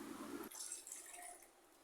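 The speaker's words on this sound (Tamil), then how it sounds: "கொஞ்சம் தண்ணி ஊற்றி" Water is poured into a cooking pot holding ground coconut paste for a one-pot vegetable kuruma, a short close splash and trickle that settles into a softer, steady dribble.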